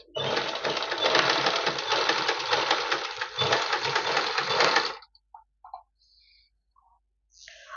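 Sewing machine stitches a fall onto a stone-embellished saree from the top side, running in a steady loud whir for about five seconds, then stopping, followed by faint small clicks and taps.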